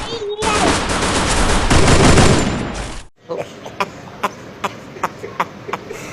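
Rapid bursts of gunfire in the Free Fire battle royale game: a loud sustained volley for about three seconds, then a string of sharper separate shots spaced out after a brief gap.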